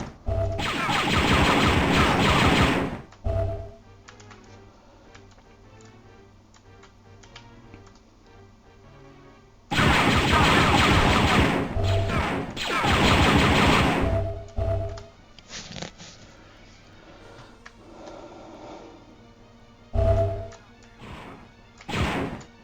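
Blaster fire in the video game Dark Forces Remastered, set in the Imperial City on Coruscant: loud bursts of rapid shots in a few clusters, with quieter gaps of ticking game effects between them.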